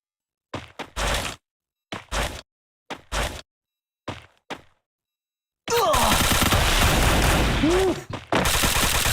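Gunfire in a battle royale video game match: several short bursts of rapid automatic fire with silent gaps between them, then a long sustained barrage of shots and impacts, all loud and close.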